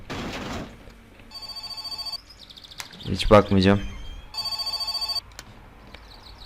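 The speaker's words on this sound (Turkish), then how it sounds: "Ha telefon çalıyor." A telephone rings in the video game My Summer Car, two bursts of rapid electronic trilling separated by a pause, with someone speaking briefly between them and clunking game noises.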